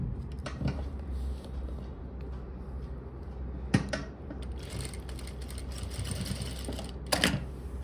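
A sewing machine stitches a belt loop onto a formal pant pocket, whirring steadily and fairly quietly, with a few sharp mechanical clicks along the way.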